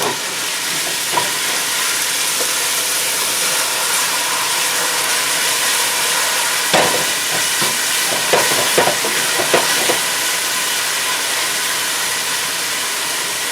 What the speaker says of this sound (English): Here we are with 2½ large finely chopped shallots, which is the first ingredient, added to the oil and the butter